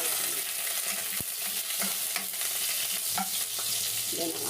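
Ginger and then garlic sautéing in a hot, smoking pan for native chicken tinola, a steady sizzle broken by scrapes and clinks of a spatula stirring against the metal, with no voices.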